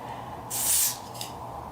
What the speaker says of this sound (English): Sometimes I just spray it on my finger